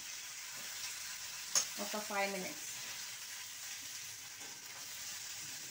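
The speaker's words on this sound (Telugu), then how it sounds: "కొంచెం సేపు ఈ పండు మిర్చిని మనం వేయించుకోవాలి" Ripe red chillies frying in a pan for a chilli and tomato chutney. The sizzle is soft and steady, and a short voice is heard briefly near the start.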